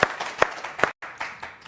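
A studio audience at an interview with Aniruddhacharya Maharaj applauds, giving a run of sharp, close claps in a quick rhythm that breaks off briefly midway before resuming.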